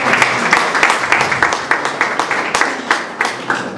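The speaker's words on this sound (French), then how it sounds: "Applaudissez pour vous-même." An audience applauds at a school year-end closing ceremony, with steady, dense clapping that keeps going for several seconds and has sharper bursts standing out near the end.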